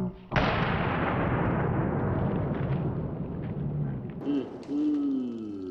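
A single loud, close 357 Magnum revolver gunshot cracks out and rolls into a long decaying outdoor echo, followed by a short excited voice exclamation.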